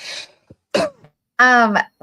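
A woman coughs and clears her throat in short separate bursts, close and loud, with a voiced sound between the rough coughs.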